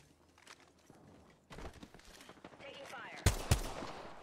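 Bursts of gunfire in the video game Apex Legends, scattered shots building to two loud sharp cracks near the end, with footsteps and game noise and a voice talking under the action.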